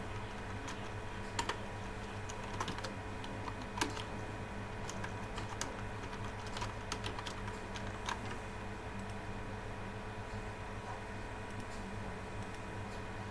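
Fingers typing PHP code on a computer keyboard, light irregular key clicks scattered through a quiet room over a steady low electrical hum, no talking.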